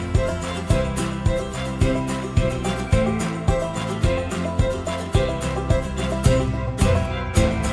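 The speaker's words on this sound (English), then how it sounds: "you could even throw in like a staccato sounding one" Staccato violin lines from a Stradivari sample library play short, detached bowed notes in a steady rhythmic pattern over a full indie folk chorus arrangement with low sustained instruments.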